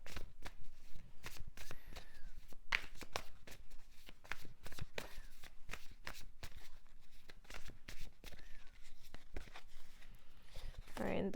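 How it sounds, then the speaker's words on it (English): Tarot cards shuffled by hand in rapid, continuous riffles and flutters, close and crisp, with a dense rhythmic patter that keeps going for several seconds. "Let's pull some tarot cards for this."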